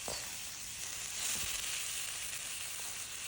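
Chicken breast sizzles in a pan for chicken sotanghon with ampalaya, a bright steady hiss with a couple of faint knocks of a spoon, fairly quiet and without talking.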